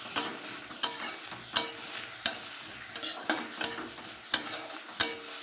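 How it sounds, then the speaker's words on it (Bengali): Onions frying in a pan for an oil-free mourola fish curry are turned with a spatula, with about nine sharp scrapes at a roughly even pace over a soft, continuous sizzle, close by. "পেঁয়াজটা এভাবে নাড়লেই দেখবেন আপনাদের সুন্দর নাড়া হয়ে যাচ্ছে"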